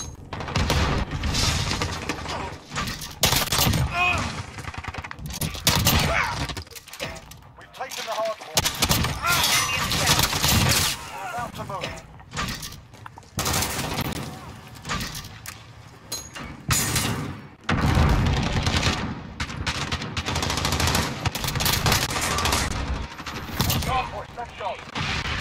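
Rapid, dense shotgun fire from an Origin 12 in a Call of Duty multiplayer match, with loud blasts packed almost continuously over game sounds and occasional voices.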